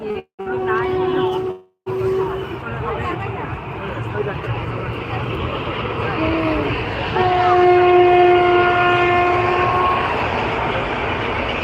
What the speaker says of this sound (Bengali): ওই ট্রেন চলে যাচ্ছে